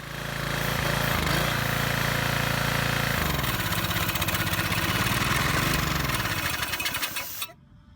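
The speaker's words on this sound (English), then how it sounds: "the engine will just stop running automatically" A pressure washer's small engine runs steadily at a loud, rough drone, its pitch sagging near the end before it abruptly cuts out into silence as it stops by itself.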